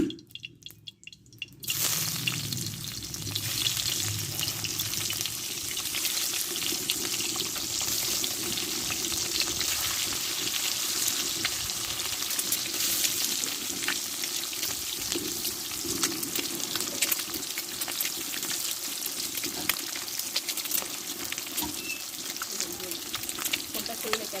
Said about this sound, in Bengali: ডিমটা আমি ভেজে নেবো